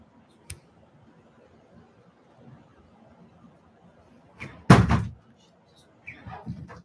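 A door slams shut loudly once, close by, with a short rattle after the hit, during an indoor livestream with faint room noise and a little talk afterwards.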